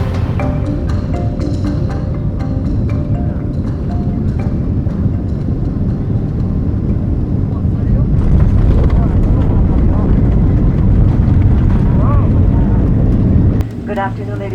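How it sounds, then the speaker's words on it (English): A 20-year-old Delta Boeing 767 airliner makes a hard landing at Kansai International Airport, heard as a loud, steady engine and rushing roar with a heavy surge partway through, recorded from inside the cabin. "let's begin with this very hard landing of this 20-year-old Delta Boeing 767 at"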